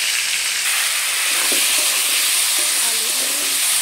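Potato pieces frying in hot oil, a continuous bright sizzle and hiss held at an even level, with faint stirring sounds underneath.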